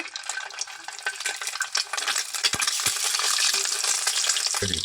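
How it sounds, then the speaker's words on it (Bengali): Egg pieces sizzle and crackle in hot oil in a pan, a continuous bright frying hiss that grows slightly denser over time, with occasional light clicks. "এক পিস করে ভেজে নেব"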